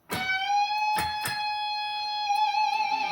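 Distorted electric guitar lick: a note picked and bent up a whole step, held, picked twice more, then shaken with vibrato. The tone rings loud, clean and close, with no talking.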